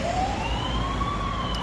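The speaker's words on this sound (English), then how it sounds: "I hope you can still hear me because there are sirens behind me." Emergency vehicle sirens wail along a road in Jerusalem, a rising sweeping tone over steady traffic rumble, fairly prominent in the background.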